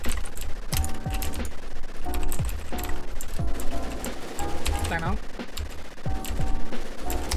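Rapid bursts of automatic gunfire in the online zombie shooter game WarZ, loud repeated volleys with short pauses between them, mixed with game effects and someone talking over the shots.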